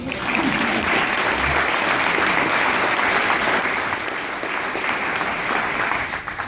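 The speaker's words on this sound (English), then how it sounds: "Everyone, give her a round of applause." Sustained applause from an audience at a school student council recognition awards event, dense steady clapping that stays loud throughout and tapers slightly at the end.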